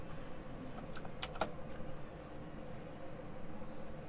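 Typing on a computer keyboard at a desk while tab-completing code, a few quick key clicks clustered early, then quieter faint tapping under steady room hiss.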